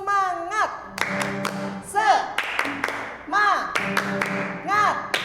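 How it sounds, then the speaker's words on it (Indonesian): A group of children and adults in an Indonesian church service claps the rhythmic 'tepuk semangat' spirit clap, sharp clap bursts in patterned groups between sung and spoken voices. "Kita mau tepuk semangat dulu ya."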